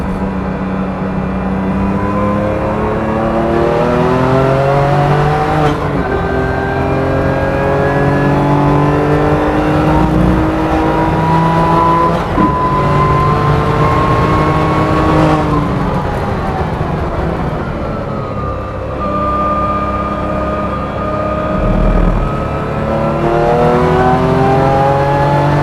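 A 510bhp BMW M2 Competition accelerates hard on a race track, its engine loud and close, pitch climbing through repeated gear changes and dipping briefly between shifts.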